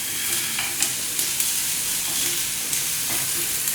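Onions frying in a pan for chicken fried rice give a steady, close, broadband sizzle, broken by a few soft stirring scrapes and clicks, with no talking.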